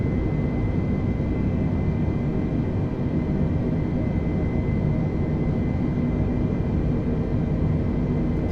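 Airbus A320 engines in flight in Microsoft Flight Simulator 2020, a steady loud jet roar from the cabin that holds unchanged throughout, with no talk.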